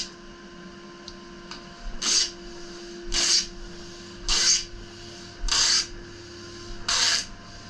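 A strip of 2-inch tape is pulled off the roll several times in a row, giving five short, loud ripping bursts at fairly even intervals over a low, steady background hum.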